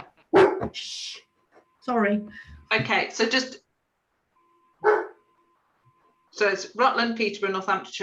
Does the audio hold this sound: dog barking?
yes